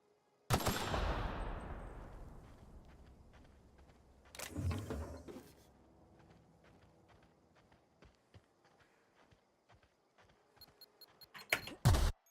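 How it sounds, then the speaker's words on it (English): A landmine in the video game The Outer Worlds goes off with a loud, sudden blast that decays over several seconds, followed by another burst, with scattered small impacts and a final sharp burst near the end; the beeping is not clearly evident. "Who makes a landmine that's going to make a beeping noise before it explodes?"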